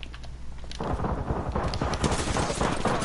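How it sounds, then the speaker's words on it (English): Gunfire in the video game Apex Legends, a series of sharp, fairly quiet shots and impacts over a low background, heard alone without talk. "I can hear a gunshot."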